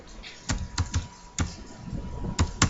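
Someone types on a computer keyboard while writing Python Flask code, producing close, irregular keystroke clicks in short bursts with brief pauses between them.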